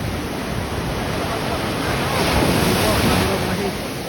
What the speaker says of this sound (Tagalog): At nakapunta na po sa magandang karagatan, malinis.